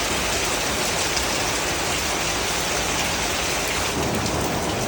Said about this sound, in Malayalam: സൂപ്പർ മഴ പെയ്തോണ്ടിരിക്കുക കേട്ടോ